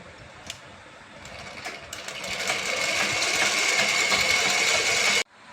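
A sewing machine stitching the sleeve of a blouse runs up from a few taps into a steady whirring buzz that holds evenly for several seconds before stopping abruptly.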